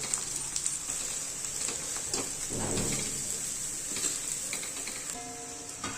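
Shredded cabbage hits a hot pan of steamed dal for a Konkan-style cabbage bhaji, giving a steady soft sizzle with a brief louder burst partway through and faint stirring.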